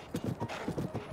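Horse hooves clip-clop in a steady, even gait in Zelda: Tears of the Kingdom, the ride rendered as close, rhythmic thuds with no talk over them.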